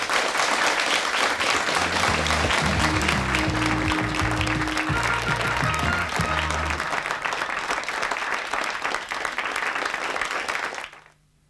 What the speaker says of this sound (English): We'll have a tremendous outburst of applause